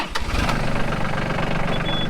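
A farm tractor engine runs close by with a low, rough, pulsing rumble and a few sharp knocks at the start, holding steady throughout.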